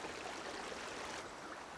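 A river stream flowing through a forest, a steady broadband rush of water that stays constant and fairly near throughout, with no voices.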